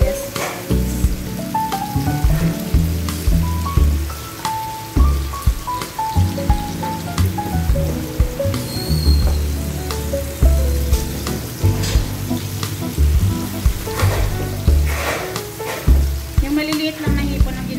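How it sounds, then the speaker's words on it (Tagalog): Small shrimp frying in a pan with egg and spring onion, a steady loud sizzle with scraping stirs and clinks running throughout, no talking. "Now, ipa-fried lang natin ng konti. Then, ilalagay natin yung ating egg."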